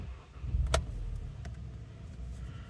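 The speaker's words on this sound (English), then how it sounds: "Just going to start the car" A 2016 Skoda Octavia vRS 230 in steel grey starts up, a sharp click followed by a low engine rumble that swells briefly and then settles into a steady idle, close by and with no talking.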